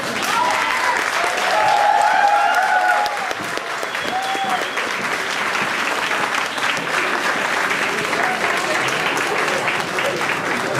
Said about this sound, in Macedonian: аплауз за мене